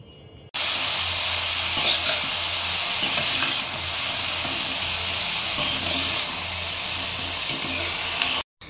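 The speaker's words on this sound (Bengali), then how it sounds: "ভালো করে ঘিয়ের মধ্যে রাঙা আলুগুলো ভেজে নিতে হবে" Grated sweet potato frying in ghee, a steady close sizzle with occasional scraping stirs from a spatula, running continuously until it cuts off abruptly near the end.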